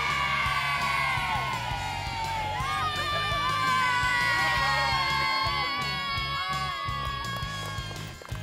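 Loud, sustained cheering and shouting from a crowd of children at a primary school Gaelic games tournament, whoops and yells overlapping close by.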